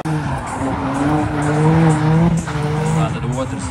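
A car does a tire burnout at the Poorbaltics Burnout Challenge 2025, a loud, sustained squeal whose pitch wavers over a roaring engine, lasting the whole stretch.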